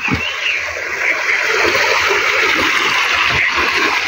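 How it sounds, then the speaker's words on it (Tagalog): Water flows steadily into an outdoor pool in Hong Kong, a constant close rushing and splashing that fills the whole stretch without a break. "Yung ano ng tubig oh, sarap sa tainga. Yung tunog na. Yung tunog sa tubig."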